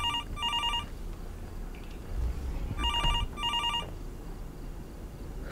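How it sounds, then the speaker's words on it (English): A phone rings inside the horror video game Fears to Fathom, two bursts of a trilling electronic bell, each a pair of rapid rings, standing out clearly over a low, rumbling ambient background with no speech. "Who is calling my phone?"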